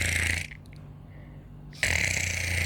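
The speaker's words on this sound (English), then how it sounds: "The other three were all snoring loudly." Loud snoring from an elderly grandparent asleep in bed, a heavy rasping snore rising, breaking into a near-silent pause, then roaring back.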